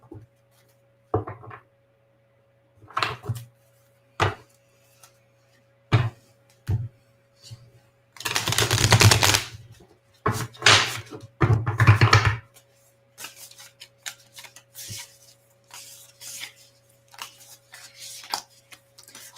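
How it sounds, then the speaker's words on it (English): A tarot deck is shuffled by hand indoors, giving scattered short bursts of card riffling and soft taps, with one longer, louder flurry midway and quiet gaps between. "And I'm just going to give my deck a really good shuffle here."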